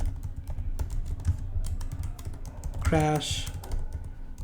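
Computer keyboard keys clatter in quick, irregular bursts of clicks during coding, close and clear, while someone speaks briefly over the typing.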